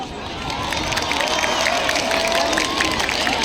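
A large crowd at an outdoor state concert in Baku for National Salvation Day cheers and claps continuously, a dense roar of voices and applause that stays steady and loud throughout.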